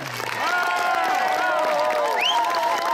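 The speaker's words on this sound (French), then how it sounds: "On peut l'applaudir très fort." An outdoor summer concert audience in Alleuze applauds and cheers warmly for a cabrette player, a dense steady wash of clapping under sustained whistles and calls.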